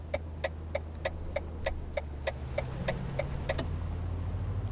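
An Audi 80 B2 in the City Car Driving game, held in third gear, its engine a steady low hum beneath a regular ticking, like a turn signal, clicking about three times a second.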